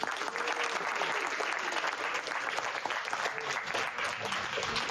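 Audience applauding health teams after final presentations at the MIT Policy Hackathon 2024, a steady dense wash of clapping from a sizable crowd throughout, fairly loud and unbroken.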